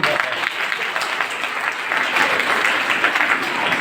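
Loud, dense applause from a college audience at a National Youth Day function, steady clapping that swells slightly toward the end with no voices over it.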